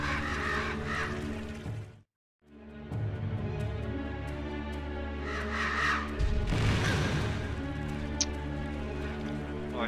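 Raspy crow caws in the game Selma and the Wisp come in clusters around a brief silent gap, with a thudding hit later and a steady tonal music drone underneath.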